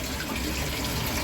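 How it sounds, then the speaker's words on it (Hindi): Water pours from a jug into a pot of chicken and rice for pulao, a steady, fairly close splashing stream with no talking. "तो ये रखने के लिए हम पानी डाल रहे हैं इसमें।"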